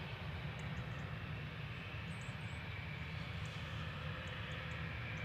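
An EasyJet Airbus A320 jet moves along a taxiway at Manchester Airport, heard as a faint, distant low rumble of engines that stays steady, with a few soft chirps high above it.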